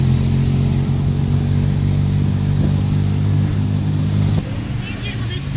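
A car engine with a motorbike-like note drones loudly and steadily from inside the vehicle in Bangkok, dropping in pitch and level near the end.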